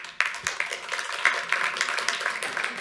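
Audience applause in a township hall at a community planning meeting, a steady wash of many hands clapping with sharp individual claps standing out, fairly close and sustained for the whole stretch.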